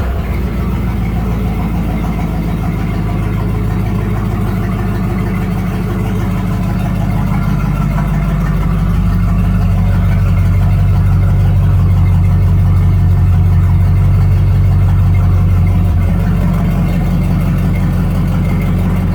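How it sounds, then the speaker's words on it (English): The V8 of a 1983 Ford LTD Crown Victoria runs through homemade mufflers, a loud, close, low throbbing idle that holds steady for nearly twenty seconds, deepening slightly midway, with no voices over it. "this old girl fires up and runs."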